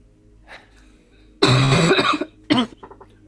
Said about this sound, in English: Cough down the microphone again and again and again.